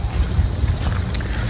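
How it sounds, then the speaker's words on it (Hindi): Cold wind gusts steadily across a snowy, partly frozen park in Russia, a continuous low rumble of buffeting air close to the microphone with no talk. "हवा चल रही है ठंडी"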